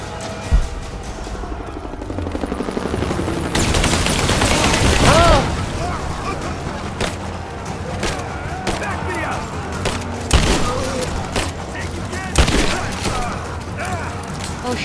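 Shotgun blasts in Rise of the Tomb Raider land as a few sharp, separate booms over a loud, dense game soundscape of rumbling action, with a voice talking at times.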